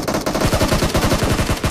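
Rapid automatic gunfire from the battle royale video game BGMI, a steady stream of loud, close shots firing in quick succession for the whole stretch with no talk over it.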